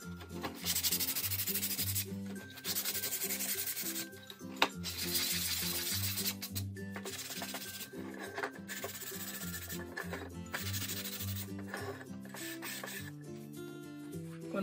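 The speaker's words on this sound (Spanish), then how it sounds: "vamos a lijar un poquito los laterales y un poquito lo del centro" A wooden money box has its sides sanded by hand, giving steady scratchy rubbing strokes that come in bursts with short pauses, all under continuous background music.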